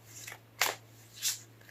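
Tarot cards are shuffled close by in three short papery bursts, a quiet rustle followed by two louder riffles spaced about half a second apart.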